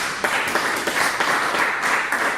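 Audience applause at a local government workshop at a college, a brief, even round of clapping heard fairly close with no talking.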